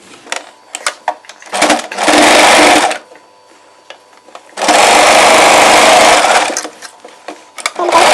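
A sewing machine stitches the neck and shoulder of a layered frill chudidar, running loudly in two long bursts of about one and two seconds, with shorter clicks and handling noises between them.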